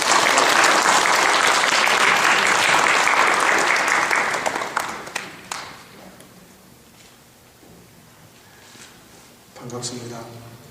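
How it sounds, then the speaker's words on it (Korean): A church congregation claps loudly to welcome the visiting pastor, dense applause for about five seconds that fades out, followed by quiet room sounds and a few faint stray noises. "목사님 나오실 때 우리 박수로 환영하도록 하겠습니다"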